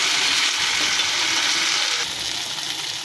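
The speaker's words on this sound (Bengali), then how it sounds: "আমি সুন্দর করে কষিয়ে নেব।" Kashmiri aloo dum masala with tomatoes and green chilli sautés in a pan, giving a steady, close hiss of sizzling with faint stirring scrapes and no voices.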